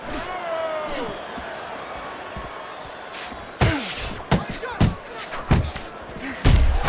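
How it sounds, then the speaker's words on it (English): Punches land in the boxing video game Fight Night Champion as a series of sharp, heavy thuds clustered in the second half, over a background of crowd and game ambience with voices. "He scores with the jab."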